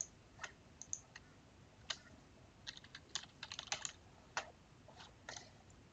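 Quiet typing on a computer keyboard comes in irregular bursts of crisp clicks close up, with short pauses between the runs of keystrokes and no speech.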